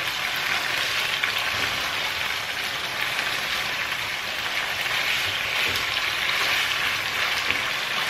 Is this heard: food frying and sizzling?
yes